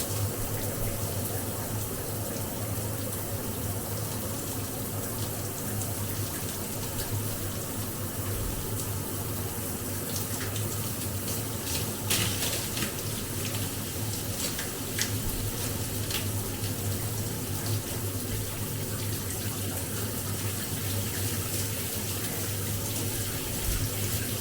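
Water runs steadily from a tap or shower while shampoo is rinsed out of natural hair, a constant close hiss with light splashing and no talking.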